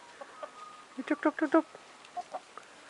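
Chickens cluck in a short burst of several quick calls close by, with a few scattered softer clucks before and after in a quiet setting.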